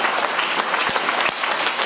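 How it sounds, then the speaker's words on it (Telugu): A church congregation applauding together at a celebration, dense, sustained clapping close by with no pauses. "చప్పట్లు కొడదాం సంతోషంగా"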